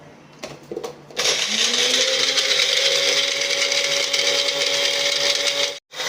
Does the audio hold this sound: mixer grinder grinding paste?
yes